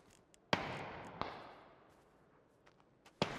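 Sharp video game gunshot cracks ring out, three loud shots spaced irregularly, each trailing off in a brief echo, with faint clicks between.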